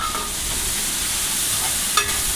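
Ginger garlic paste fries steadily in a pan for tomato rice, a dense, even sizzle with a spatula scraping and stirring through it, one sharper clink near the end and no voices.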